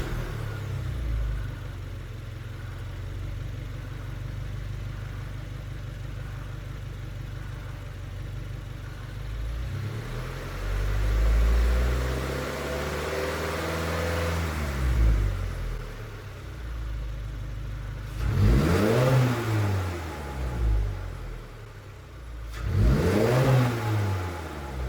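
A 2022+ Subaru WRX fitted with a BMS performance intake idles, then revs up several times in rising and falling sweeps, close and strong, with two sharp blips near the end.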